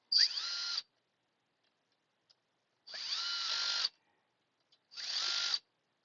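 A power driver on a low clutch setting drives bolts into a Farmertec G366 chainsaw, giving three close, loud whirring bursts with short silences between them.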